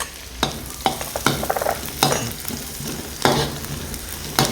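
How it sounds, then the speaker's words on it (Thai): Garlic and chilies frying in a pan for a banana blossom stir-fry, a close, steady sizzle broken by repeated scraping clicks of stirring, no talk. "เดี๋ยวเราเจียวกระเทียมให้หอม"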